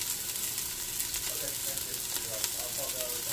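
Chopped garlic and onion fry in a pan, giving a steady, even hiss of sizzling oil throughout, with faint tonal sounds in the background.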